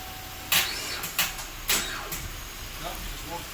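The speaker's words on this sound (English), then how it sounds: "It turns, just doesn't have enough cranking power." A Camaro's starter grinds weakly through a handful of short, sluggish cranking pulses without the engine catching, heard close up in a brief burst.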